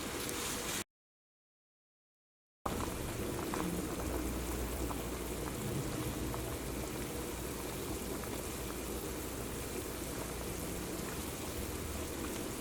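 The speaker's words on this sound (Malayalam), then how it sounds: "വെള്ളം ഇതേപോലെ നന്നായിട്ട് വെട്ടി തിളയ്ക്കണം കേട്ടോ" Water boils hard in a pot, a dense, continuous bubbling roar close by, with a short silent gap near the start.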